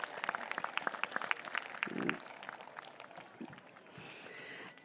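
Graduates at the WASHS Class of 2026 commencement clapping for their families, a faint, distant spread of applause with scattered individual claps, gradually thinning toward the end.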